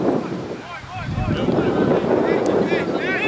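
Steady wind buffets the microphone on an outdoor soccer field during a high school match, a constant low roar lasting throughout, with faint voices in the background.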